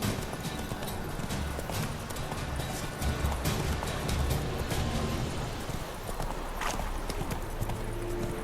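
Roach, Geralt's horse in The Witcher 3, trots with a steady, rapid clip-clop of hooves that carries on without a break, moderately loud against an outdoor game ambience.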